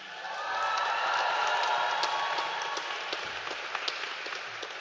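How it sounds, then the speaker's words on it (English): Graduating students at a university graduation ceremony cheer and applaud, a swell of clapping and cheering that builds early and then holds, with sharp individual claps standing out near the end. "A massive cheer, students"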